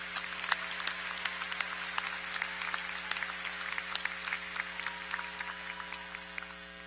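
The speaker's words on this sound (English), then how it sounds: "Let's give our graduates a round of applause." A large audience at a fall university undergraduate commencement ceremony applauds the graduates, a sustained wash of clapping from many hands with scattered sharper claps, moderately distant in a big hall.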